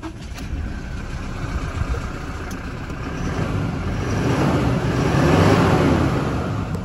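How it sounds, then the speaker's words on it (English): A vehicle with a suspension upgrade cranks over and settles into a steady, loud idle, the engine rumble swelling slightly and holding close by. "I'll just grab out the key so we can start the vehicle."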